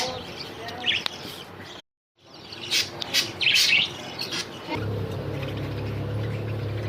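Australian budgie parrots kept in clay pots chirp in short, bright bursts at close range. There is a brief gap of silence, then the chirping returns and gives way to a steady low hum and handling noise.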